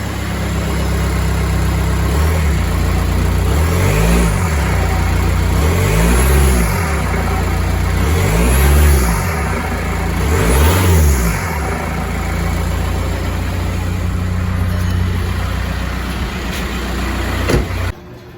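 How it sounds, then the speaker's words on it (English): A cold car engine idles steadily, then gets four light revs that rise and fall at even intervals before it settles back to idle. "We'll give her a couple of light revs."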